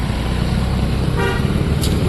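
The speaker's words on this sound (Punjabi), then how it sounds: "ਭੰਗੀ ਪੁਲ ਦੇ ਉੱਪਰ ਗੱਡੀਆਂ ਵਾਲੇ ਬੜੇ ਹੌਰਨ ਮਾਰ ਰਹੇ" Steady road traffic noise on the Bhangi bridge in Hoshiarpur, with a short car horn toot rising partway through, a vehicle engine droning underneath.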